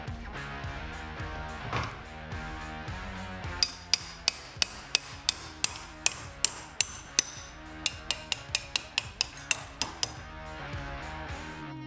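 Sharp, evenly spaced hammer blows strike a door hinge pin on a 1971 Pontiac GTO, about twenty metallic whacks in steady rhythm over the second half, close and loud above a quieter workshop background.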